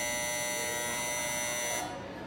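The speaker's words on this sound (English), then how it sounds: "That noise is because the timer has gone off," Combi oven timer buzzer going off in a kitchen, a steady loud electric buzz holding for nearly two seconds before cutting off abruptly, leaving quieter room noise.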